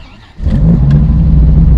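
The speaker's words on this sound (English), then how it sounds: "It's amazing how many people want revs when I've only just started the car up." A Lamborghini engine fires up close by at a car show and settles into a loud, rumbling idle.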